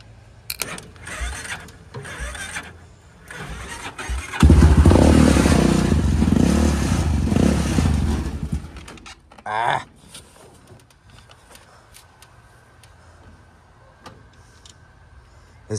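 A Yamaha Warrior ATV engine is cranked and coughs to life, roaring loudly for several seconds before sputtering and fading out, with short mechanical noises and quieter handling sounds afterward.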